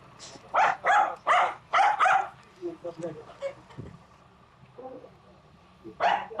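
A dog barks four times in a steady rhythm, then quieter talking and shuffling, then the barking starts again, loud and close.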